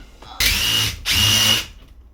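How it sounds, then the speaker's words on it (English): A power drill bores a hole in two loud, close bursts of high whine, each lasting about half a second, separated by a short pause. "Push when you drill it."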